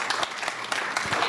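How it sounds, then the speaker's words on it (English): A short burst of applause from a small crowd, dense clapping heard up close. "let's give her a round of applause just because"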